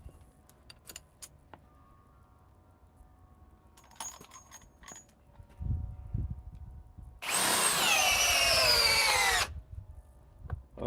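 A cordless drill powered by an 8 amp EXP battery drives a screw in one sustained, loud whirring burst of about two seconds, preceded by scattered clicks, clunks and handling noises.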